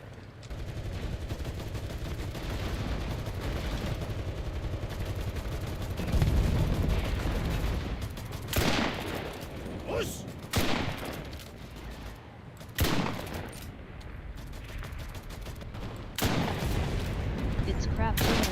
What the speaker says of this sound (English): It's crap artillery, LOL.